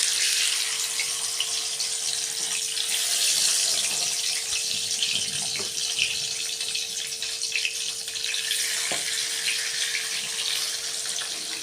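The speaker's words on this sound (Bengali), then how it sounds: "কড়াইতে সর্ষের তেল নিয়ে নিয়েছি, এবার এক এক করে ফ্রাই করব" Pabda fish frying in mustard oil in a kadai, a steady, dense hiss that runs unbroken and fairly close throughout, with a faint constant hum underneath and no voices.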